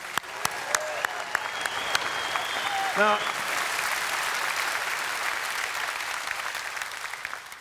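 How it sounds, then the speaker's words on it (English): Audience applause at a Reform UK national conference, a broad steady wash of clapping from a large hall, with a brief voice cutting through near the middle. "Please give them a round of applause."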